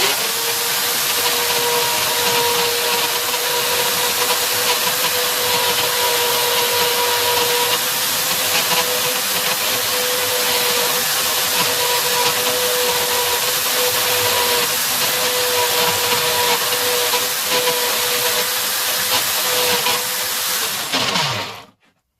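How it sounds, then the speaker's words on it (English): A drill spins a cheap wire brush cleaning a bolt from a Vulcan 900 motorcycle, continuously with a steady whine and gritty scratching, running for about twenty seconds before winding down. "just a cheap wire brush in the drill"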